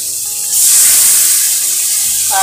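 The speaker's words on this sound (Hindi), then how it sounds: "पानी थोड़ा थोड़ा डाल के पका रहा हूँ।" Water is added to a simmering Manipuri-style fish curry with potatoes, tomatoes and chili powder, bursting into a loud, steady sizzling hiss that carries on after a quieter start.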